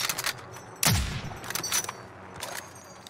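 Gunfire in the Warzone battle-royale shooter, a heavy burst near the start followed by scattered shots and bursts, loud and close, with no talk over it.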